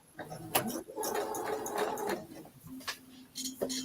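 A sewing machine quilts around appliqué pieces in short, close bursts of rapid stitching that stop and restart several times, with a faint voice now and then in the background.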